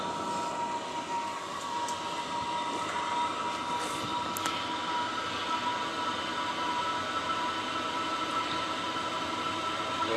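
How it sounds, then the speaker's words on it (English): A portable diesel air heater runs during a test, giving off a constant rumbling hum with a thin high whine over it. The sound stays at an even level from start to finish. "Basically a portable diesel furnace."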